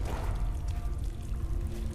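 Quiet, steady rush of water streaming and dripping as Lara climbs out of the water in the video game Tomb Raider Underworld, a continuous wash with no talking.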